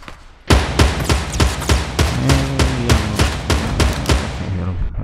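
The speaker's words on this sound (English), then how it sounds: "I'm hearing shots. It sounds really close." Gunfire in the video game Fortnite: a rapid string of sharp, loud shots in an uneven rhythm over five seconds, with a low tonal game sound running underneath.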